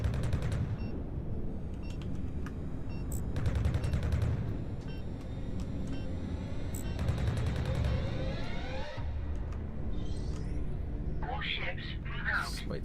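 Smart guns fire in the space combat game Fractured Space, bursts of rapid shots sounding in several clusters beneath constant talking.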